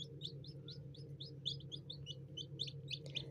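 Newly hatched chicks in an incubator give rapid high peeps in a busy, overlapping stream, faint over a low steady hum from the machine.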